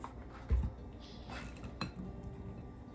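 Oiled gluten-free bread cubes being mixed in a bowl: quiet scraping and shuffling, with one sharper clink of a utensil against the bowl early on, then soft rustling.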